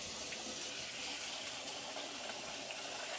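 Cold tap water runs steadily from a faucet while food is rinsed in a drainer, a soft, continuous hiss and splash with no talking.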